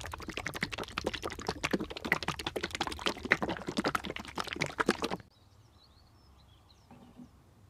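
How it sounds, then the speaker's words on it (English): Radweld is poured into the coolant system of a Land Rover Freelander with a failed head gasket, a close, rapid gurgling pour lasting about five seconds before cutting off into near silence. "So we'll put the Radweld in there and then the coolant."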